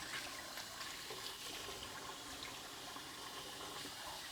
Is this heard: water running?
yes